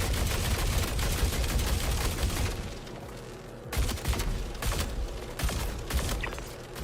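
Rapid gunfire in the Star Citizen video game, dense loud bursts of shots at first, a short lull, then more firing resuming close by, no talking over it.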